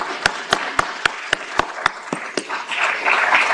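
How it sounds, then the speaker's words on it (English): Audience applause at a university lecture introduction, starting as a few slow, sharp, evenly spaced claps and swelling into a fuller, continuous round of clapping. "Let's give a round of applause."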